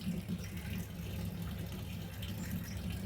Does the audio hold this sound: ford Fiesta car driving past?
no